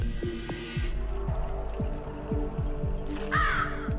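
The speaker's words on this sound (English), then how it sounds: "Crow, you can stop, like, trying to attack me now." A crow enemy caws in the video game The Legend of Dragoon, a single harsh call near the end over a throbbing, pulsing low game hum with repeated thumping beats.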